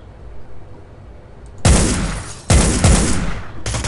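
Gunfire in the stealth game Hitman: Blood Money, with two or three loud, sharp shots ringing out after a quiet stretch, each leaving a short decaying tail.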